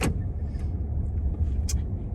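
A car rolls slowly through a housing development, its low engine and tire rumble steady and close from inside the cabin, with a few faint clicks and no talk.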